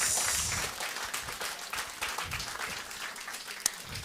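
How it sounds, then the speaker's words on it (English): An audience claps steadily and fairly loudly, a dense wash of many hands that stays even throughout with no voices over it. "Please, another round of applause, please."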